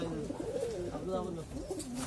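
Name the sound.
pigeons cooing in a coop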